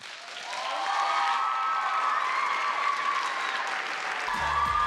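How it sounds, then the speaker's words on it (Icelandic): Audience applause for singer Hafdís Inga at the Tónkvíslin 2017 song contest, a steady, dense clapping that holds loud throughout with some cheering mixed in. "Við skulum gefa henni Hafdísi Ingu gott klapp"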